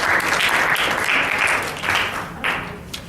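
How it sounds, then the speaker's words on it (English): A loud round of applause from an audience at a youth business-plan session, sustained clapping that swells and dips in waves and tails off near the end. "So guys, one more round of applause."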